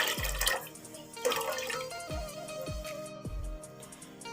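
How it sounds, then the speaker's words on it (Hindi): Water poured into a pot with rice for cooking sweet jaggery rice, sounding as several short splashing pours and glugs close by with a faint ringing, with no voices. "अगर हम 1 गिलास चावल बनाएंगे तो उसमें हम 2 गिलास पानी डालेंगे।"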